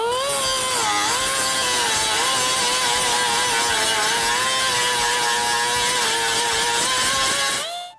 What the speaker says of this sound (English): I'm going to start off actually using the cutoff wheel again to go over the surface, bring the edge of the weld down even with